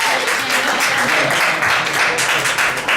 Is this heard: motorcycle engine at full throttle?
no